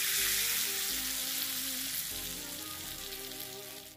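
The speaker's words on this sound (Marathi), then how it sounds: "हे आपल्या डाळीवर याचा तडका मारू" Red chillies, coriander and red chilli powder tempered in hot oil for dal, a loud steady sizzle and crackle that fades slightly toward the end, with no voices.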